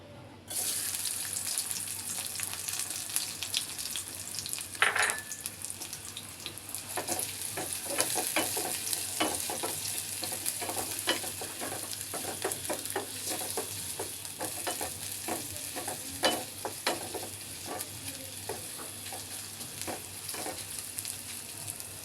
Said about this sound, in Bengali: এখন আমি দিয়ে দিচ্ছি কিছু পেঁয়াজ আর রসুন কুচি